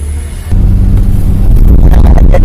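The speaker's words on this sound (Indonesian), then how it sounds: "Nah, kita udah ada di dalam angkot Bor." Inside an angkot minibus in Bogor, the engine rumbles low and steady as the vehicle pulls away, rising to a louder, continuous drone with road noise.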